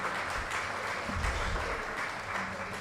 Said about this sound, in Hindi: प्लीज़ ज़ोरदार तालियां हमारे परफॉर्मर्स के लिए